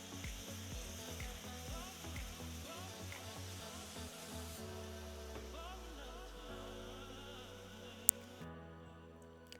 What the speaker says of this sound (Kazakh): Қызып тұрған майға салып қуырамыз